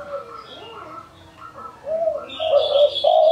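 A spotted dove coos in low, rhythmic notes, joined by a higher chirping bird, with faint talk underneath.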